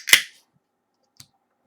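A can of Taha sparkling pineapple kava is cracked open with a sharp, close pop and hiss, followed by a single faint click about a second later in otherwise quiet surroundings.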